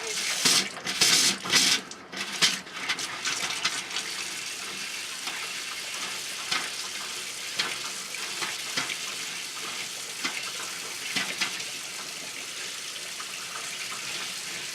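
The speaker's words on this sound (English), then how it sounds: "Just make sure your faucet is turned on." Steady hiss of water running from a faucet while flushing a Truma AquaGo Comfort water heater for decalcification, continuous and fairly close, with a few clattering bumps at the start.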